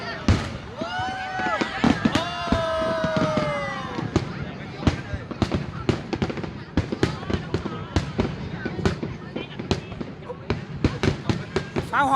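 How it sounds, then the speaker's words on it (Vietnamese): Fireworks display over Saigon: a rapid series of sharp bangs and crackling pops, at first mixed with whistling rockets and voices of onlookers, then continuing as irregular loud bursts. "Pháo hoa Sài Gòn quá đẹp."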